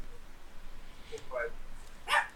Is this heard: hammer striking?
no